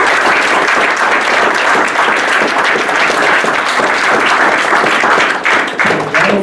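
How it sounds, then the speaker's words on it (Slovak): An indoor audience at a youth panel discussion in Bratislava claps loudly and steadily for a panel speaker, a dense sustained round of applause that stays strong until a slight thinning at the close. "Potlesk pre Mariana Kasana."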